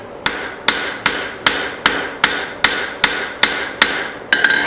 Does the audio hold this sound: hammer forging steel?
yes